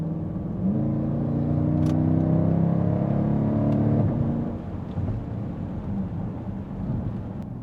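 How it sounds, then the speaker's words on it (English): A 2019 Dodge Durango SRT with a performance exhaust rises in a deep, loud engine roar that swells and holds, then drops off into a lower rumble as it fades away. "You also get a new performance exhaust system that gives this thing just an amazing sound."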